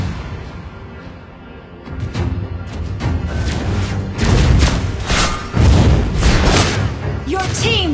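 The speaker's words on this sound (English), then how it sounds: "Your team destroyed a turret!" Turret destruction in the Mobile Legends video game, heavy booms and thuds building into loud crumbling blasts amid game effects, with a voice announcing over the clatter.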